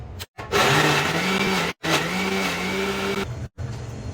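A kitchen mixer grinder blends carrot, cucumber, beetroot and amla with a little water, whirring loudly and steadily in two long runs separated by short silent pauses, with a brief burst at the end.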